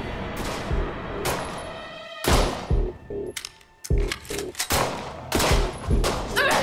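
Rapid bursts of gunfire in a roguelike survival horror video game, loud clustered shots with short gaps between volleys, no talking.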